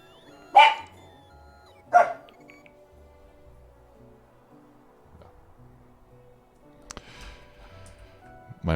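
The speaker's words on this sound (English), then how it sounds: "My wife's friends' dogs are visiting us for the next week. They're good dogs, but there will be some additional noises here." Two sharp dog barks ring out close by early on, separated by a pause, with a third quieter bark-like burst later amid a faint steady indoor hum; no one speaks.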